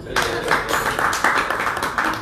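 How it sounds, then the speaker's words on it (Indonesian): A crowd at a 2019 gathering of Aceh's national and regional legislators breaks into steady applause, a dense, close wash of clapping that lasts the whole stretch, with faint voices mixed underneath. "Tepuk tangan buat dia"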